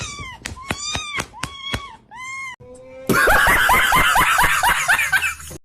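A kitten cries close by in a string of loud, wavering wails, then breaks into a denser, rapid run of cries that sound like a tantrum.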